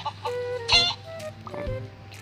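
Chickens in the Mini World video game cluck in short, repeated bursts, close and moderately loud, with a few brief squawks among them.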